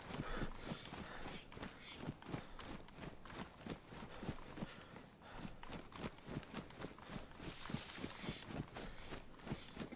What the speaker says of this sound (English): I don't know if they heard the footsteps.